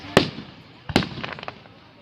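Loud fireworks explode at a fireworks show: two sharp, booming blasts about a second apart, the second one followed by a brief spray of crackling pops.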